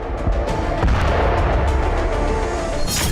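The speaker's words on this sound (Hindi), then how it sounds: "जिसमें आईडीएफ के जेट ने एयर स्ट्राइक की और ठीक उसी जगह टारगेटेड अटैक किया जहां अल कस्साम के चीफ मोहम्मद दायफ के छुपे" Booming blasts from an IDF jet air strike in the Al-Mawasi area near Khan Younis, with a dense run of deep thuds and cracking bursts, loud and rumbling, and a sharp rushing burst at the end.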